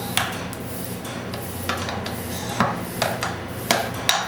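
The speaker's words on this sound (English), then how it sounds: "Take one bearing, press it on." Metal clicks and sharp knocks ring out at intervals while a bearing is pressed onto a Demco spindle assembly, each tap bright and close over a faint steady background.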